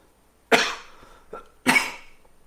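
Two sharp coughs ring out close by with a brief throat noise between them, set against otherwise quiet surroundings.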